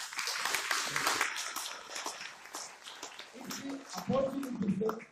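A gathered audience applauds to welcome newcomers at a meeting: a dense patter of clapping that thins out midway, then voices and shuffling noises take over.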